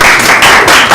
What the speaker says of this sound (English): So clap it up for those who've been trying for years and made it in.